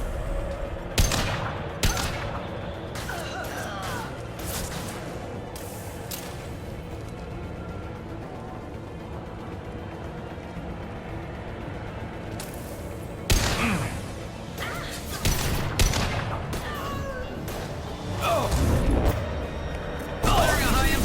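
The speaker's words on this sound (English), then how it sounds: "Firing a high impact shot." High impact gunshots in the video game Mass Effect 2, scattered loud bangs and booming bursts spread unevenly across a stretch of combat, with clusters of heavier fire and a voice talking between them.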